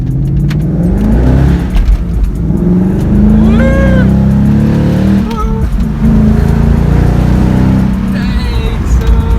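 A 2017 Ford Mustang GT accelerates hard through the gears with its V8 roaring loudly up close, rising pitch sweeps marking each gear and tire squeal from wheelspin, while voices speak briefly over the engine.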